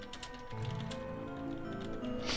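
Rapid keyboard typing during a Pokémon Go session, a steady run of light clicks under a faint background hum, with no talking.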